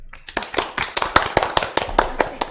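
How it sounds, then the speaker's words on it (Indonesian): Close rhythmic hand clapping at a community event, about a dozen crisp, evenly spaced claps over a couple of seconds, loud and with little else behind them. "Tepuk tangan dulu."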